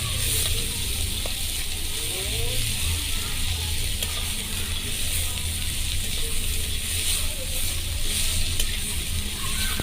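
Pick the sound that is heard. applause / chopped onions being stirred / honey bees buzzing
chopped onions being stirred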